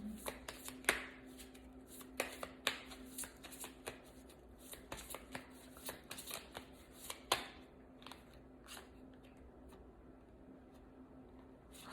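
Guidance tarot cards handled and pulled from a deck: soft papery shuffles, flicks and light taps come in irregular bursts, close and quiet, with no talking.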